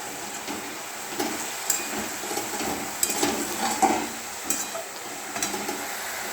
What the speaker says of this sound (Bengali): দেখো পেঁয়াজ শাক ভাজা ফ্রাই হচ্ছে